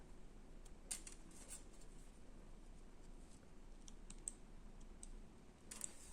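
Quiet, close snipping and clicking of small, dull scissors cutting yarn, a few sharp snips spaced irregularly over faint background noise.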